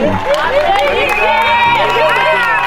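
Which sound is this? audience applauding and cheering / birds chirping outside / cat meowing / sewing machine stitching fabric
audience applauding and cheering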